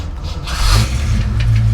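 A 1989 Ford Mustang engine cranks briefly and catches, then settles into a loud, rough rumbling idle close by.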